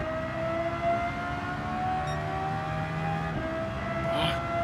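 Lexus LFA engine in Gran Turismo 7 holding a sustained, high-pitched rev with a steady tonal whine and slowly shifting pitch, loud and continuous throughout without speech.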